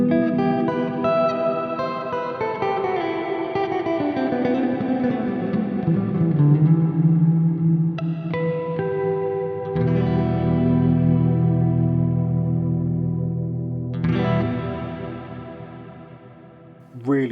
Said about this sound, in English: You can hear some kind of chorusing stuff going on there, definitely.